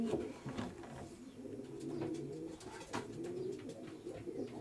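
Racing pigeons coo and rustle softly inside a widowhood loft, several low burbling coos overlapping steadily under steady background noise, with no talk.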